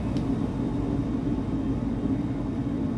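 A continuous low, rumbling airplane engine drone, steady and unbroken, with no voices.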